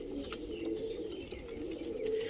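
Soft repeated cooing of fancy pigeons, Tippler and other breeds, a few birds calling close by in overlapping low coos with faint chirps above.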